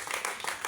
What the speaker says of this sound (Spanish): Dele ese aplauso al Señor Jesús, al dueño de la palabra.